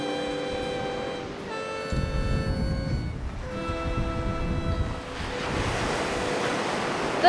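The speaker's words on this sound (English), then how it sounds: "It's the ocean, Jax." Ocean waves roll in as a broad surf wash that swells and recedes, partly under sustained tonal music, with no talk.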